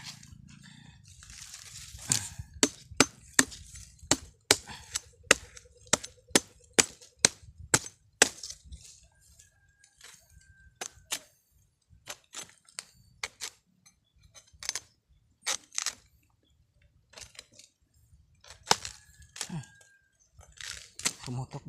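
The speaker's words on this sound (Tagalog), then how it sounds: "So buksan na natin para makainom tayo ng tubig guys." A young coconut is chopped open outdoors with repeated sharp, crisp blade strikes in uneven bursts, some loud and some faint, while a person talks intermittently between the chops.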